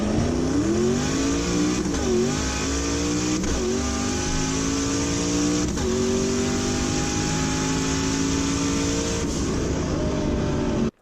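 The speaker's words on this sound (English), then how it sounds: "He owns a Corvette C5 and he's completely stripped it into some kind of ridiculously fast go-kart build thing" A stripped Corvette C5 go-kart build called Leroy, from Cleetus McFarland, revs hard, its engine note climbing and dropping through repeated gear changes, loud and close, ending abruptly.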